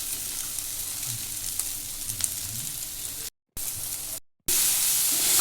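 Cauliflower (gobi) frying and sizzling in a pan for gobi fried rice, a steady close hiss with stirring, broken by two brief silent gaps before the sizzle returns louder.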